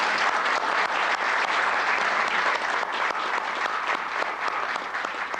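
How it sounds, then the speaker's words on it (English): Warm, steady applause from a large audience greeting an ambassador at a 1994 CIS gathering in Moscow, with dense, sustained clapping that stays even throughout. "So I'd like you to give him a warm applause"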